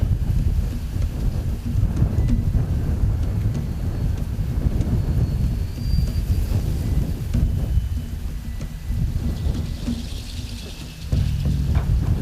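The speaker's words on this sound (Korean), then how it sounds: "바람이 안 잘 것 같아요" Strong, gusty wind buffets a night fishing spot by a weedy pond, a continuous low rumble of wind noise across the microphone, loud and unbroken for the whole stretch, with no voices.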